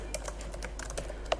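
Quick, light keystrokes on a computer keyboard, close and fairly quiet, come in an uneven run of taps over a low steady hum, with no talking.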